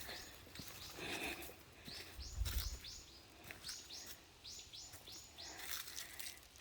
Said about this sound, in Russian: Слышите птичек?